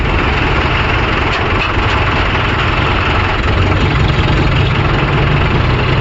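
A JCB 3DX backhoe loader's diesel engine runs steadily at a loud idle, a continuous deep rumble with no talk, during loading of lake soil into tractors.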